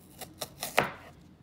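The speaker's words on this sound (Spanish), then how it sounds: "Y dos cebollas medianas. Y aquí las estoy cortando." Four separate knife chops through onions on a cutting board, spaced evenly and close, with the last stroke the loudest, and no voices.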